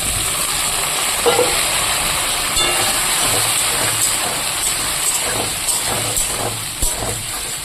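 Squash pieces frying in a pan with potato and onion, giving a steady, fairly loud broadband sizzle that hisses continuously with faint scraping taps now and then.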